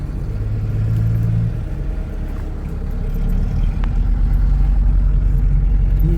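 A running car engine rumbles at low pitch, steady and close, with a slight surge partway through and faint clicks over the drone, and no talk.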